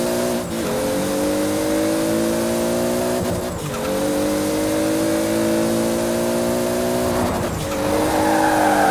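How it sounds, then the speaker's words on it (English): A Toyota Supra in Forza Horizon 4 roars down a highway, its loud engine climbing steadily in pitch, dropping briefly at each gear shift, with faint tire noise throughout. "this is the Fast and the Furious Supra, but do you hear this thing? Listen to this thing. We're going to open her up."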